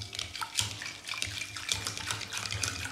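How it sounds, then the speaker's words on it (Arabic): Warm water pours into a yeast mixture for Tunisian Mahdia-style chapati dough, a close, soft splashing trickle with small uneven bursts over a few seconds. "نضيف توا الماء يكون دافي كما قلت لكم"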